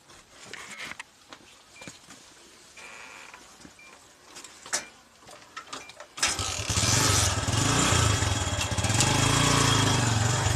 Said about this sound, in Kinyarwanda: Moto yanjye nkaba narayibonye ni nayo najeho. Mureke nge no kuyatsa mwumve ni nzima